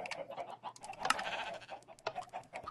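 Minecraft sheep bleating in a video game, several short nasal bleats close by, with quick clicks and faint background sound between calls, no talk.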